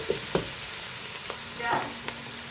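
Onions frying in a pan for chicken biryani: a soft continuous sizzle under a few scattered spoon knocks and scrapes as they are stirred, close and fairly quiet, with no voices.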